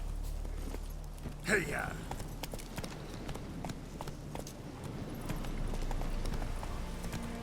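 Horse hooves clip-clop steadily on the ground in The Witcher 3, a moderate walking rhythm running through the clip beneath a man's brief spoken remarks.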